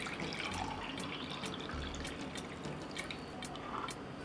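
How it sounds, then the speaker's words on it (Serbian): Lukewarm water runs into a glass for a home apple cider vinegar and honey drink, a continuous splashing pour with light dripping, close and steady. "Napunit ću čašu sa mlakom vodom."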